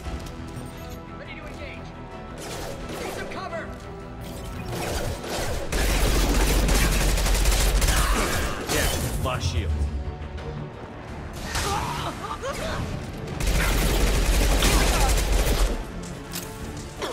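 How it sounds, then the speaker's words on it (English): Rapid submachine gun fire from Mass Effect 2 rattles in repeated bursts over a continuous backdrop of game effects and booming impacts, with a voice talking over parts of the action. "Alright, let's go to SMG."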